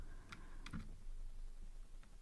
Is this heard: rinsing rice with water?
no